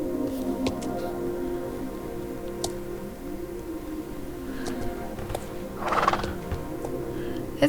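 Horses in the Star Stable Online game neigh and whinny with a drawn-out call over steady clip-clop hooves and light ticking, the sound close and clear with no talk.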